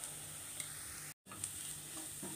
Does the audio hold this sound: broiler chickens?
no